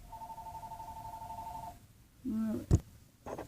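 A telephone rings in a kitchen during cupcake baking, a steady electronic tone that sounds for under two seconds and then stops, followed by faint clatter and a short sharp knock.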